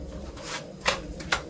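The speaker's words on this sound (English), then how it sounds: "Let's get six cards right off the bat to get going." Tarot cards being shuffled and drawn by hand, a few soft riffling bursts and quick papery snaps close up, with no talking.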